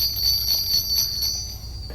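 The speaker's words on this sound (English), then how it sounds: "And these are the brass." Brass Christmas bells from New England Bells in New Hampshire, jingled in a general store, ring with a steady metallic shimmer and soft repeated strikes, close and clear, fading slightly toward the end with no voices.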